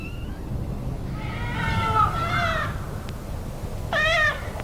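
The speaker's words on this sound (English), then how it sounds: "The kittens are almost fully grown. Their teeth and claws are sharp, and these fights can be painful." Nearly grown kittens yowl and hiss in a scuffle, with a drawn-out wavering cry followed by a short, sharp screech, close by over low background noise.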